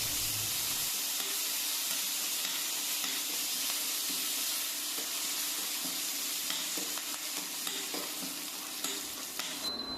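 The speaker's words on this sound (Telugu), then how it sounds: "ఇవన్నీ బాగా వేగిన తరువాత చివరిగా కరివేపాకును వేసుకుని వేయించుకోవాలి." Curry leaves and dried red chillies frying in hot oil as tempering for a tamarind-leaf chutney, a dense, loud, continuous sizzle and crackle heard up close for the whole stretch, with no talking.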